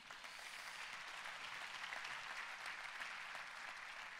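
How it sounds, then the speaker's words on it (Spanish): A congregation applauds during a Christmas sermon, a steady, even roar of many clapping hands at moderate distance, sustained without a break and with no voice over it. "¿Cuántos dan un fuerte aplauso a él?"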